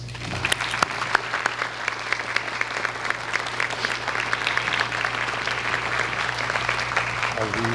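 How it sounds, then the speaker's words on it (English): Applause at a college commencement ceremony for student veterans, steady crowd clapping with sharp individual claps standing out, sustained at moderate level over a low hum. "Round of applause, please."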